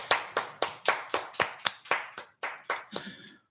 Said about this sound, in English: We need to applaud close to the mic.